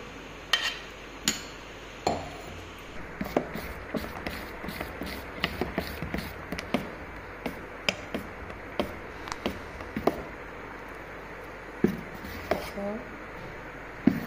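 Dosa batter of finely ground grain stirred in a bowl at home, a steady run of light clinking taps and scrapes against the bowl's side spread across the whole stretch.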